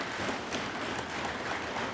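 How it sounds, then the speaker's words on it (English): Steady, mid-distance applause from an audience fills a debate chamber at a special International Men's Day sitting in Tobago, an even wash of clapping with no pause. "But fellas, give yourselves a round of applause."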